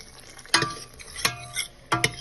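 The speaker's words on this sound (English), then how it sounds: "Mix it with some microgreen dal." A spoon stirs moong dal with microgreens and tempering in a pan, three distinct scraping strokes about 0.7 seconds apart over a faint soft sizzle, close and clear with no voices.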